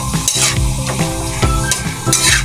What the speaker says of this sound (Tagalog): Ating halo-haloin.